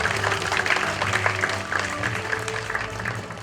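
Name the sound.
audience applause for dignitaries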